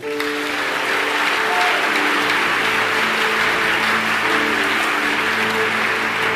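A church congregation applauds steadily and loudly throughout, a dense continuous clapping with music or sustained tones underneath.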